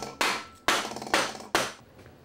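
An aluminum front trim edge is tapped into place on a particle-board slatwall shelf: four sharp, close knocks spaced about half a second apart, each with a short metallic ring, and no voices.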